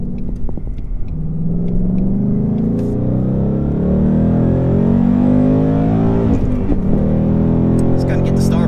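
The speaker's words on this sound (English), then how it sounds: "Some downshift action here." A 460-horsepower Ford Mustang GT on city streets downshifts and then accelerates, its engine note rising in a loud, throaty rumble with audible revs climbing across the gears.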